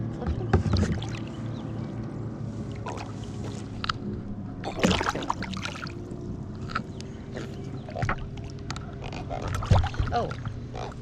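Kayak drifting on water while fishing, with soft paddle splashes and water lapping throughout, plus a few sharper dips and knocks, all close by under a low steady background rumble.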